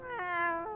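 Cat meowing: one clear, drawn-out meow from a single cat, close and steady in pitch, with nothing else around it.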